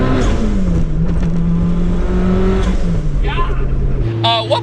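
A tuned, turbocharged Toyota RAV4 with a cheap aftermarket blow-off valve revs loudly and steadily up close, its engine note holding and shifting, with a brief hiss near the end and people talking over it.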